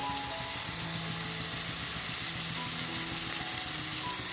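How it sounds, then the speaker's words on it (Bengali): Steady hissing sizzle of chicken legs frying over full flame in a hot pan with spices, continuous and fairly quiet, with no talking. "এখন আমার একটা পিঠ ভাজা ভালো করে হয়ে গেছে, এবার আমি উল্টে দেব"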